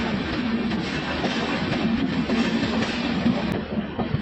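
An Antyodaya Express train from Trivandrum to Mangalore crosses the Aluva bridge at night, heard from inside as a steady loud rumble and rattle of wheels on track, with a faint clatter of carriages.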